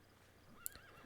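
A horse in Metal Gear Solid V: The Phantom Pain gives a short, faint whinny, a brief breathy snort-like cry rising over quiet background ambience.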